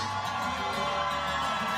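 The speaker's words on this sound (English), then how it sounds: "And you hear the crowd erupting" Boxing arena crowd roaring and cheering as defending champion Ramon Cardenas makes his entrance, a dense continuous wall of voices and whoops filling the space.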